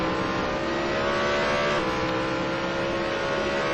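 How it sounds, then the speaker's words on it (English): Race car engine during the ETC Black Cup round at Magny Cours, a steady loud motor drone with a slight fall in pitch as the car slows, close and continuous with no voices. "one car is slowing down considerably"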